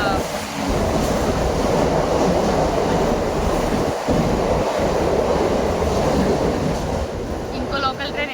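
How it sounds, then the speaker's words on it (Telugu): A local train rumbles past at a station, a loud, steady roar of wheels and carriages filling the whole stretch with a couple of brief dips, then easing slightly at the end. "ఇంకో లోకల్ ట్రైన్ వెళ్ళింది ఇప్పుడే."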